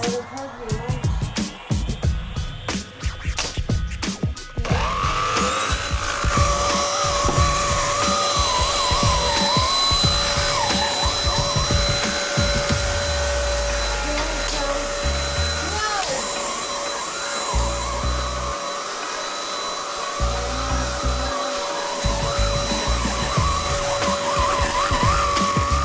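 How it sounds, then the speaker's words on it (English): A hoover runs with a steady, loud whine and roar, preceded by a few seconds of clattering knocks, and continues droning nearby for over twenty seconds. "gonna vacuum today"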